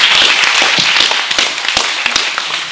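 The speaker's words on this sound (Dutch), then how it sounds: "een hartelijk applaus" Audience applause at an art studio open day, with distinct individual claps standing out in an irregular patter that thins toward the end.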